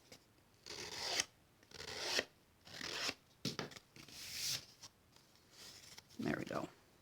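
Paper edges for a birthday card are rubbed with a sanding block in repeated short, scratchy rasping strokes, close and quiet, with brief pauses between passes.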